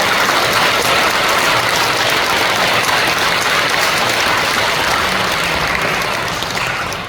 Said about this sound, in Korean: 우리 힘찬 박수로 수고하신 분들 격려해 주시겠습니다.